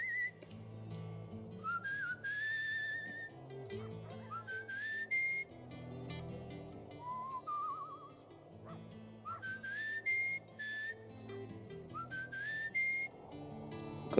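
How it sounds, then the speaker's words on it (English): A character whistles a wandering, melodic tune while traveling in the game Where the Water Tastes Like Wine, with clear phrases rising and falling over soft background music. "Let's just whistle our way"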